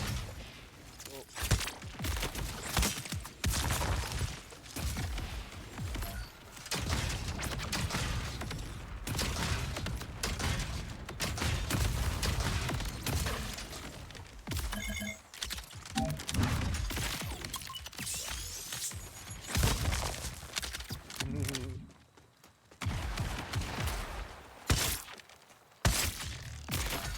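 Rapid shotgun blasts in a video game freeze enemies solid, sounding as dense, loud, continuous bursts of gunfire and shattering impacts mixed with game effects and a voice talking over them.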